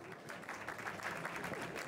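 A studio audience breaks into warm applause welcoming the guest Sheng, a rap and R&B artist, with steady dense clapping over the full two seconds and no talk above it.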